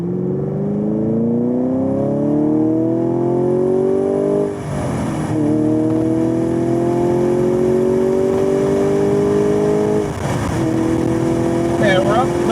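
A sixth-generation Chevrolet Camaro driven at high-performance track speeds, its engine note climbing steadily through gears with two brief shift dips, heard from inside the cabin with steady wind noise.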